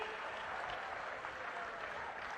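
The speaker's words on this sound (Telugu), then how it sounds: "గట్టిగా చప్పట్లు కొట్టి అభినందించండి" An audience at a public government meeting in Gudivada claps together in a dense, sustained burst of applause, steady and fairly close throughout.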